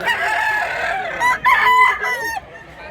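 A young rooster crows loudly and close by, a strained, cracking call lasting about a second, with fainter clucking and background noise around it.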